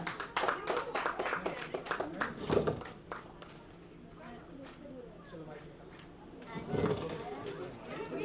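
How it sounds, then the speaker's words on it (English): Audience clapping at a book launch, a few seconds of crisp, moderately loud claps up front that thin out into room murmur and voices, with a brief swell of sound again near the end. "can we have a big round of applause for our author, Nidhi Sureka."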